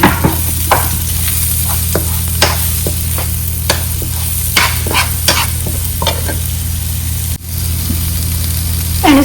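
Chopped onions hit hot oil in a pan, giving a loud, close, continuous sizzle broken by sharp stirring clicks and scrapes of a utensil, with a low steady hum underneath and no voices.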